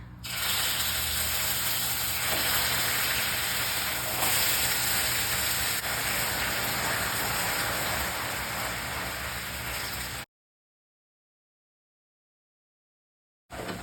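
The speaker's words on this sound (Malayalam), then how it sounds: "ഇനി ഇതിലേക്ക് തിളച്ച വെള്ളം ഒരു 1/2 കപ്പ് തന്നെ ഒഴിക്കാം" Boiling water pours into hot caramel in a pan for plum cake, a loud, steady hiss and sizzle that runs for about ten seconds, then cuts to silence.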